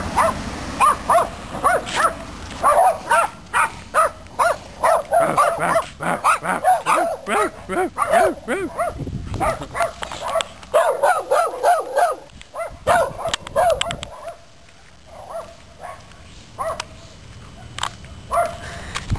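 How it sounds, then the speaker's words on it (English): Several dogs bark close and loud in rapid, overlapping bursts, with yips and whimpers mixed in, easing to sparser barks toward the end. "Dogs are barking."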